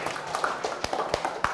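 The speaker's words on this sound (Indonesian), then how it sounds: "Kita kasih tepuk tangan untuk kelompok belimbing." A short spell of classroom clapping for a student group: a handful of hands, sharp and uneven, with several distinct claps standing out over a general patter.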